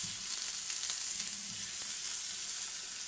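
Chopped onion tossed into garlic frying in oil in a pan, giving a steady bright sizzle with light stirring scrapes, close and continuous with no talking.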